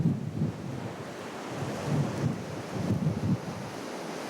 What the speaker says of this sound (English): The wind's supposed to kick up tonight and get really, really cold.